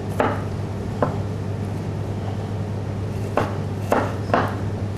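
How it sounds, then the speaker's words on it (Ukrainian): Sparse knife chops of garlic on a cutting board, about six irregular strikes over a steady low background hum, with no talking. "І чесник трошки подрібнемо."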